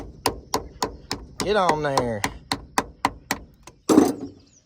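Repeated sharp, evenly spaced hammer strikes ring out close by on a semi truck's metal parts, interrupted once by a short spoken phrase and a heavier clanging blow.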